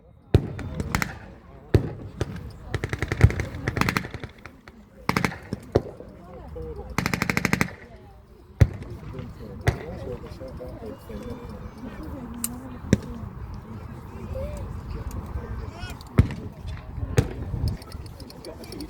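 Rifles and machine guns fire during a WWII battle reenactment, with sharp scattered shots and several dense bursts of automatic fire, some close and loud, set against a continuous rumbling background and occasional voices.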